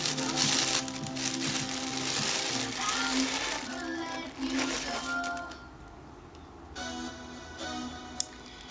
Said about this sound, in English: So I'm gonna unwrap that.